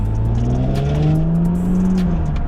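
Loud, close engine of a previously wrecked 2018 Audi S5 Sportback droning as it drives, the pitch rising smoothly as it accelerates, then easing slightly near the end.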